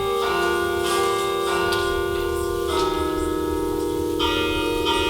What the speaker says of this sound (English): part of that voice was silenced due to the carillon bells not working